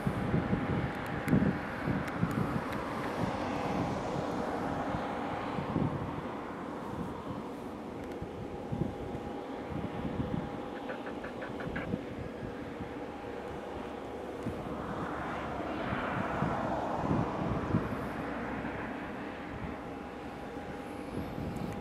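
An EasyJet airliner taking off from the runway at Madeira Airport, a steady distant jet engine roar that swells and fades over about twenty seconds, with wind buffeting the microphone.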